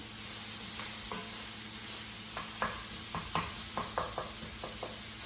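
Sausage browns in a hot pan with a constant sizzle, while a utensil stirs and scrapes in a run of sharp, close taps and knocks during the second half.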